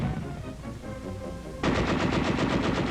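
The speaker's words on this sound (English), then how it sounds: "Under cover of machine gun fire, the field fortification is stormed." Machine gun fire during a WWII paratrooper assault on a field fortification, a loud, steady rapid burst of rounds that starts abruptly partway through over a rumbling background, with no talking.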